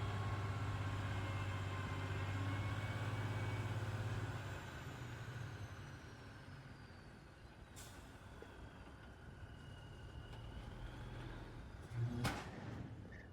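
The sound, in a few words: big trucks bringing in fill dirt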